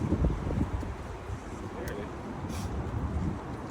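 Wind gusts by the Charles River, a low rumbling buffet against the microphone, strongest at first and then easing into a steady breezy hiss.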